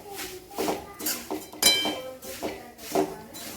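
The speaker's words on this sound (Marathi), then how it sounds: "हे पोहे असे छान ह्या फोडणीमध्ये मिक्स करून घ्यायचे" Flattened rice (poha) is stirred into hot oil tempering in a pan over low heat for crispy chivda, with repeated clinks and scrapes of a spoon against the metal pan in an uneven rhythm while a voice talks over it.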